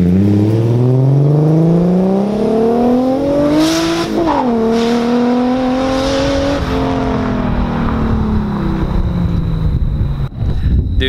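A Nissan Skyline R33 engine revs on launch control, a loud steady rising drone that climbs in pitch, wavers with sharp limiter stutters, then holds and slowly falls with wind buffeting the microphone.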